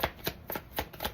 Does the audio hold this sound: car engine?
no